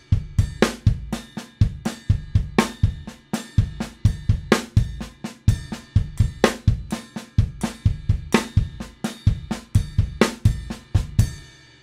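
A drum kit plays a steady paradiddle groove, with the alternating sticking moving the accents between the bass drums and the hands. Kick hits, drum strokes and cymbal wash repeat in a tight, driving rhythm, loud and close, with no talking.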